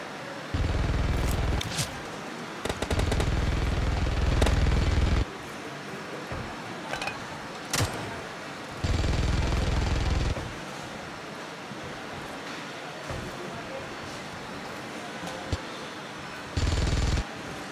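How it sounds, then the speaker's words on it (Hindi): Machine-gun fire in the PUBG Mobile battle-royale game comes in several sustained bursts of several seconds each, loud and harsh over a steady windy, washing background. "मशीन गन चला रहा है बे"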